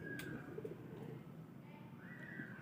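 Soft, low cooing of a Qasoori breed pigeon fills the background alongside faint bird calls, with a steady hum of ambient noise throughout.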